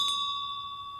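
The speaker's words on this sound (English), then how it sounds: "you'll hear a bell, and it's not an obnoxious bell" A single clear ding from a small bell rung to call people back across a campus, a bright pure tone that rings on and slowly fades, with no voices.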